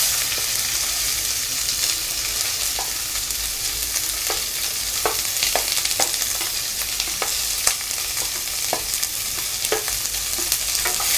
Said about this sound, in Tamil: இதை வந்து நல்லா நம்ம அதாவது கோல்டன் ப்ரௌன் ஆகிற வரைக்கும் நம்ம நல்லா வதக்கிக்கலாம்.